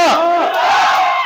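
A large crowd roars and shouts together at a political rally where about 200 people joined YSRCP from TDP, in Ward 12, Moolanpet. The loud, sustained collective cry fills the whole moment without a break.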